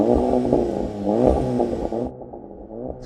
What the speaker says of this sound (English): Go on, Golf, give it some revs.